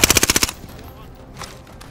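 A close, loud burst of about eight rapid SMG shots from the video game Call of Duty: Modern Warfare, quickly followed by quieter ambient game noise.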